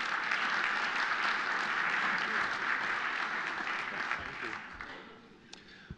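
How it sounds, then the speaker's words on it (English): Audience applause at a corporate event in the New York Public Library as a Danone CEO walks up, dense clapping from a crowd that holds steady then gradually tapers off to scattered claps. "Please give him a nice round of applause as he makes his way up."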